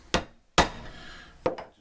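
Soft hammer tapping the bearing caps of a drive shaft U-joint during a press-free replacement, three sharp separate strikes, close and fairly loud, with no talking.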